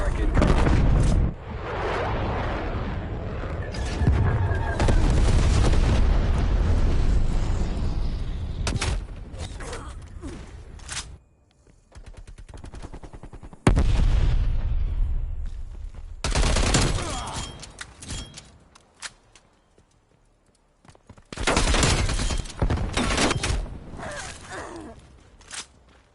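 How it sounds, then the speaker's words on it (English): Explosions from a napalm strike in a Call of Duty game, loud booming blasts and gunfire crackle in long dense bursts, with quieter gaps between volleys. "Enemy napalm strike incoming."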